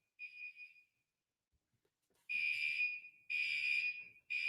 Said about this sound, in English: We're in fire alarm mode now.